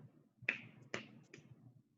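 Three crisp finger snaps, close and fairly quiet, spaced about half a second apart and then trailing off, offered in place of clapping in a quiet room.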